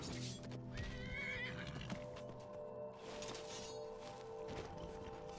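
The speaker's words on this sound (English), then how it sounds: "The horse is charging!" A horse whinnies loudly near the start amid a busy Skyrim game soundscape, with hooves pounding steadily as it charges and clattering effects running underneath throughout.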